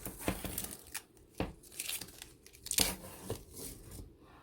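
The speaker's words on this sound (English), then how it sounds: "I'm just going to remove the tape" Masking tape being peeled off a watercolour painting, several short crisp ripping and crinkling bursts spaced irregularly, close and fairly quiet, with no talk.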